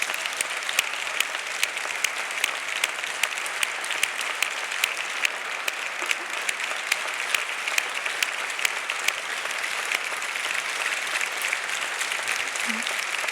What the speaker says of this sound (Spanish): Un aplauso inmenso para ella.